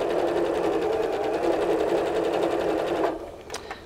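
A sewing machine stitches quilt pieces together, a loud, rapid, even hum for three seconds before stopping, followed by a couple of small clicks.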